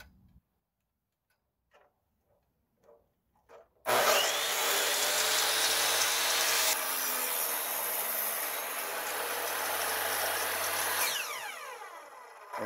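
Power saw cutting through wood, run from an Oscal PowerMax 3600 power station: a few faint knocks, then a loud, steady broadband whine and rasp for about seven seconds that stops abruptly, leaving a brief fading ring.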